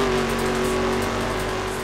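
Car in The Crew racing video game driving fast, its engine holding a steady high whine at speed, close and continuous, with no talking.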